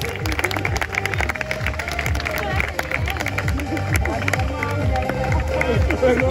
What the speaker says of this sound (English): Keep clapping and boost up their energy also.